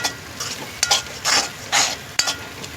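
A spoon is worked through thick masala chicken gravy for village-style chicken in a pan, making repeated scraping, sizzling strokes in an uneven rhythm, close and fairly loud.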